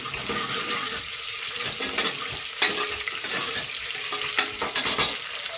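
Steady hissing sizzle of onion frying in a pan for a village-style chickpea and green pea gravy, with scraping, clattering stirring strokes throughout and no voices.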